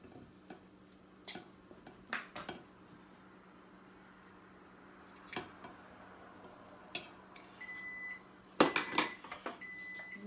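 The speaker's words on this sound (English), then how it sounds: "that's my microwave in the background" A kitchen microwave oven hums faintly in the background while dishes clink and a short series of beeps sounds near the end, all quiet and intermittent.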